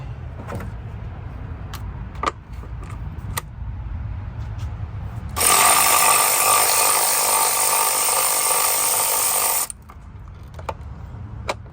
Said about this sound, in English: these 10mm bolts holding in the coils. We'll go ahead and take those out